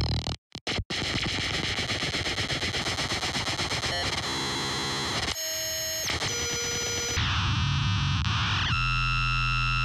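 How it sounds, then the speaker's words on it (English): Distortion amp effect plugin with a gold preset, loud saturated processed tones with abrupt cuts and shifting textures, harsh buzzing layers changing every few seconds. "Apply some distortion in it so it makes it kind of sound like analog-y."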